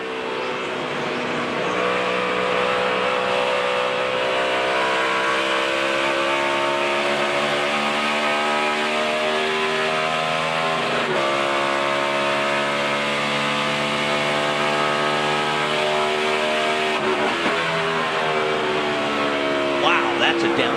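Dale Earnhardt Jr.'s NASCAR Sprint Cup car at Pocono roars loudly and continuously in-car, engine pitch dropping through gear changes as it downshifts, a steady dense drone throughout.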